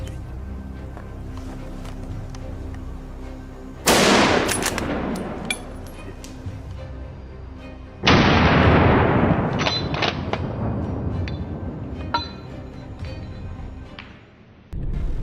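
Rifle shots during a wild boar hunt: two sharp, loud cracks about four seconds apart, each trailing off in a long echoing decay outdoors.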